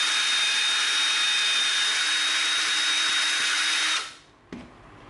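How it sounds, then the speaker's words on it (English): A power drill whirs steadily and loudly through EVA foam for about four seconds, then spins down and stops, followed by a brief click. "We're just gonna drill through."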